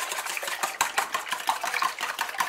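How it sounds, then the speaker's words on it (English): An egg being whisked into milk in a mixing bowl for an impossible pie, a steady rapid clatter of the whisk against the bowl, close and continuous with no talk. "Grab our egg and slowly whisk our egg in."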